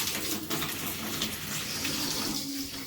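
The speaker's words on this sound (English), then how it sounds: "Remove the backing from the toilet and siphon out the water in the tank." Water being siphoned out of a toilet tank during winterizing, a steady close gurgling rush of flowing water that continues without a break.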